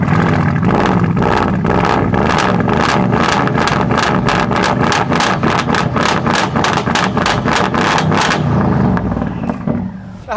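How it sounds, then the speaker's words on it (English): Tuned Brabus 850 GLE, a Mercedes GLE Coupe, cold-starting and revving hard, with a loud, steady roar and rapid crackling pulses throughout before the engine note cuts off near the end. "Now we'll start with a sound, the Brabus 850 GLE."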